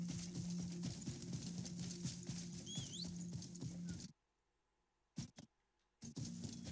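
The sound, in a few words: horse hooves galloping in a video game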